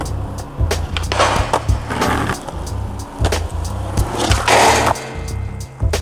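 Skateboard rolling over pavement with sharp wooden clacks and thuds of a trick, captured through a camera microphone; gritty wheel rumble continues between the impacts, fairly close, no talk.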